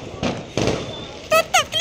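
Fireworks and firecrackers set off at night during a Hari Raya eve celebration, giving short bursts and crackling pops with sharp whistling fizzes near the end, amid chatter and voices.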